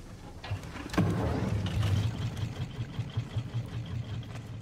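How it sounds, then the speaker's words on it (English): Motorboat-style engines on a raft in the survival game Raft, a steady low engine drone running throughout, loud and close, with a sharp onset about a second in and no talking. "Let's get these engines moving back as far as fucking possible."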